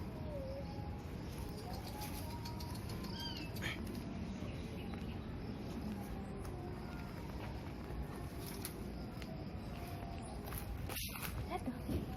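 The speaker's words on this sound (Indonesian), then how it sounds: "Dengar gak sih? Suara kucing." Faint, thin meows from a kitten in a cemetery come and go over a steady background hiss, with a few soft rustles and scattered distant bird sounds.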